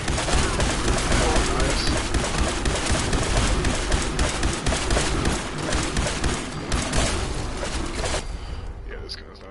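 Rapid gunfire in the Fallout 4 Far Harbor video game, dense overlapping shots rattling almost continuously before thinning out near the end, with a player briefly speaking over it.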